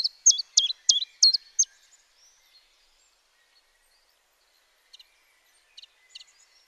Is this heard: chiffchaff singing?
yes